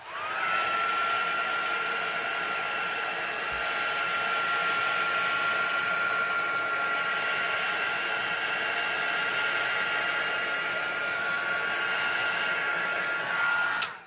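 A hair dryer blows steadily on a crafted card treated with gilding polish and Distress Oxide inks, a loud, even whoosh running continuously and close for the whole stretch.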